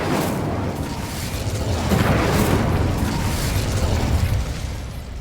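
A fire spell is cast in the Hogwarts Legacy video game, giving a loud, roaring blast of flame that swells and holds for several seconds before easing slightly. No one talks over it.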